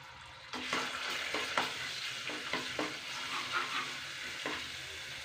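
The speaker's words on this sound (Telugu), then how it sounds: "కొద్దిగా అల్లం పేస్టు ఒక స్పూన్ పసుపు వేసి కలబెట్టాలండి పచ్చివాసన పోయే వరకు వేపుకోవాలి" Ginger paste and turmeric fry in hot oil for a chicken curry, a soft crackling sizzle with a run of gentle rhythmic spoon scrapes and taps against the pan, fairly quiet and close, without voices.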